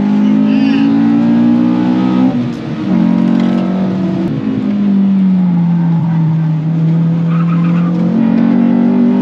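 A Honda Civic is driven hard on a race track, its engine loud and close, droning and rising with revs, dipping briefly between gear changes, with tire noise underneath.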